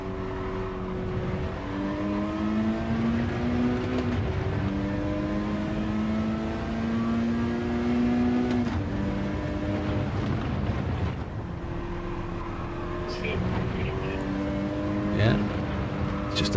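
A race car engine in a racing sim game drives hard around a track, its pitch rising through the gears and dropping at each shift across several sustained pulls, loud and continuous.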